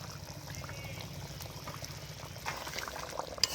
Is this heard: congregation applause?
no